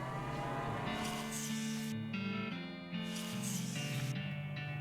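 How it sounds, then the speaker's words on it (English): Ominous, low cow mooing in the game West of Loathing, a couple of long drawn-out moos with shifting pitch against a tense musical drone, loud and close with no talking. "You hear ominous mooing."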